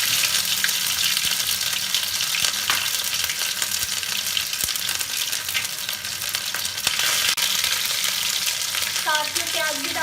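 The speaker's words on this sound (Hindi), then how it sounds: "उसके बाद अदरक लहसुन का पेस्ट डाल देंगे," Ginger garlic paste with spices fries in a pan for a mushroom and pea curry, giving a loud, steady, dense sizzle with occasional stirring clicks throughout.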